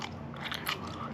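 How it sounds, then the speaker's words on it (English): Someone chews on a rubbery jawline exerciser, two pieces in the mouth at once, making a close, steady crunching and squelching bite sound without any talk. "Just put it in, chew on it."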